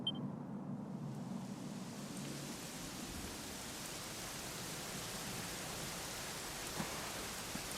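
Rain falls steadily in the Dragon Quest XI video game, a soft, even hiss of drops that stays faint and unbroken throughout, with no voices.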